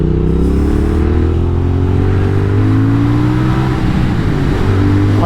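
A 2022 Triumph Speed Twin motorcycle pulls hard under acceleration, its engine note climbing in steady rising harmonics, loud and close, with a brief shift dip before revving on again.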